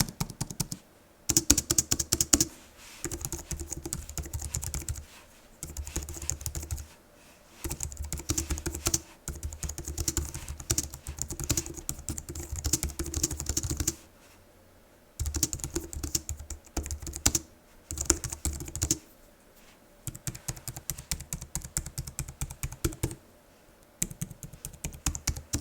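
Typing on a Logitech MX Keys Mini keyboard for Mac, close to the microphone: steady bursts of soft, rapid key clicks in runs of a few seconds, separated by short pauses, with no talking.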